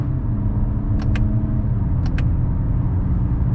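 A 2023 Toyota Camry SE engine in sport mode, held in gear, gives a steady low rumble from inside the cabin, with two pairs of brief clicks over the drone.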